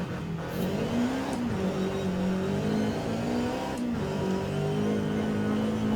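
In-car engine note of a Toyota GR86 in the racing game Forza Horizon 5, a steady droning tone that climbs through the revs, with two quick dips where gears shift, loud and close.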